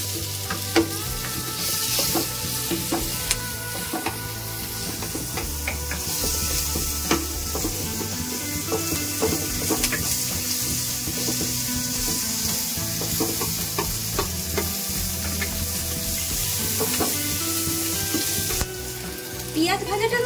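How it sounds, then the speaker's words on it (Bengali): Chopped onions sizzle steadily in hot oil while being stirred for a Bengali rui fish and potato curry, with frequent scraping spatula clicks over continuous frying hiss, close and loud. "এবার আমি এতে দিচ্ছি কুচানো পেঁয়াজ, দিয়ে আমি একটু ভালো করে ভাজা ভাজা করে নেব"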